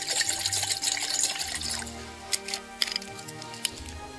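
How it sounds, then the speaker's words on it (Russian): Water poured into a pot for tea at a forest camp, a trickling, splashing stream at first, then a few drips and small splashes, close and fairly quiet. "Наливаем воды."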